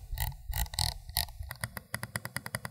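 Rapid light clicking of a Razer Mamba Wireless mouse scroll wheel with knobby textured rubber, a quick run of crisp ticks after some softer handling noise, close up and alone.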